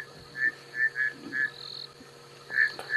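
Several short, bleating chirps from bushveld rain frogs repeat in quick succession, clear and close, over a faint steady background hum, on a South African safari drive.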